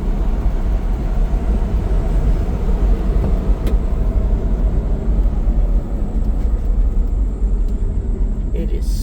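A Daihatsu Hijet mini truck in low gear with four-wheel drive engaged, heard from inside the cab as a loud, steady engine drone and road rumble throughout, with no pauses.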